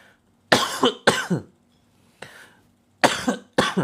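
Several harsh coughs in short bursts, close and loud, with pauses between them and one softer cough in the middle.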